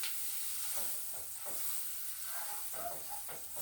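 Rice and broken-up pasta brown in butter in a pan with a soft, steady sizzle. Faint stirring scrapes come through now and then, and no one speaks.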